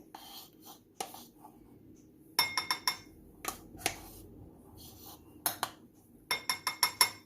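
A spoon clinks against a glass while cocoa powder is added for homemade chocolate milk: a series of light, close metallic taps and scrapes in irregular clusters, fairly quiet and alone.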